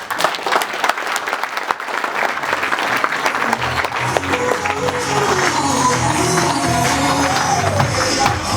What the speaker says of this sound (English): So just give a round of applause.